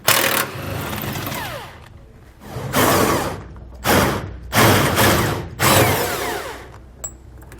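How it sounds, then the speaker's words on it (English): Power tool with a 21mm socket removing frame bolts on a 2017 Chevrolet during a heavy-duty trailer hitch install, sounding as five loud, close whirring bursts separated by brief pauses. "We're going to take those out using a 21mm socket."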